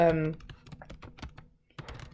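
Quick keystrokes on a computer keyboard, a run of light irregular clicks close by, pausing briefly before resuming, with a voice heard at the start.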